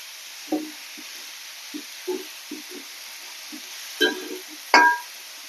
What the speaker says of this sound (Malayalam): ഇതൊന്ന് നന്നായിട്ട് ഇളക്കി കൊടുക്കാം.